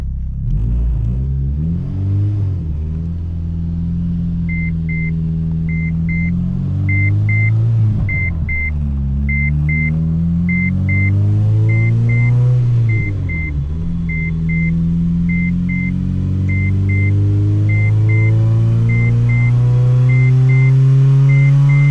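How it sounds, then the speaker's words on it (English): A 2007 Honda Civic Si with a K24A engine pulls on a dyno, the loud, close engine note rising in pitch through VTEC toward redline, with rises and dips along the way while a faint electronic beep repeats steadily in the background. "Our first pull into VTEC and all the way to red line."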